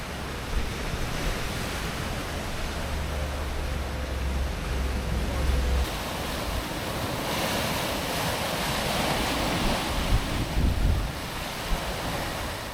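Mediterranean Sea waves washing against jagged rocks near Nice, France, a continuous broad surging rush with wind buffeting the microphone and a few louder swells.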